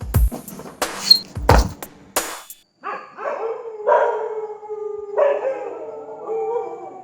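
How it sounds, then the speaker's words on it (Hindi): A street dog howls in long, wavering drawn-out tones out on a lane, loud and fairly close, after a few sharp barks and yips at the start. "मेरी गली में एक कुत्ता है"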